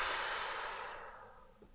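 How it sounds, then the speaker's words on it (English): One long, deep exhale during a guided meditation, loud and close at first and then fading away over under two seconds, heard alone. "Just turn on the deepest expression of your breath."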